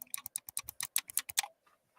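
Back buttons on a game controller clicking in a quick rapid series of about a dozen crisp, sharp clicks, close and fairly soft, then fading to quiet.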